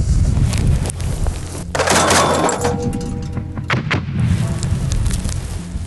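An infantry artillery gun fires one shot, a loud boom and blast close by, followed by a sharp crackle and rumbling echo fading away.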